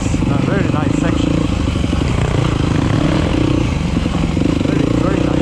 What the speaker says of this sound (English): So I'm downshifting because we got a hill climb, right?